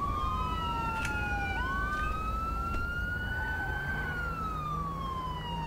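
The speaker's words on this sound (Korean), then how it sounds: "사이렌 끄고." A wailing police siren from a police car in the game GTA V sweeps up and down steadily over a low vehicle rumble, loud and close, with no one speaking.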